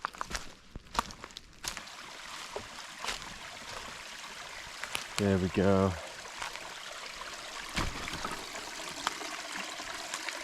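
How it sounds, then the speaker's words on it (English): A mountain spring trickles and flows in a forest in the Taiwan mountains, a steady watery hiss in the background. Footsteps and rustling sound close by, and a person speaks briefly. "last time we found a spring down here. And actually I can hear it already."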